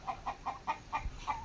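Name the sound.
chickens and Muscovy ducks in a backyard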